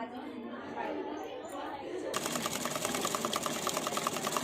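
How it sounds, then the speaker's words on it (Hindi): A sewing machine stitches across the width of fabric for a churidar pajama, starting midway with a rapid, even mechanical rattle that runs steadily to the end, while voices chatter in the background. "हमें विड्थ में दोनों साइड से इसको सिलाई दे देनी है।"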